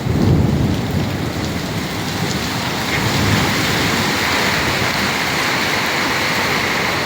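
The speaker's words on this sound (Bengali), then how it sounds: "তুমুল বৃষ্টি।" Heavy rain pours steadily in Qatar during flooding, a dense loud roar of rainfall with rumbling thunder underneath, continuous for several seconds with no talking.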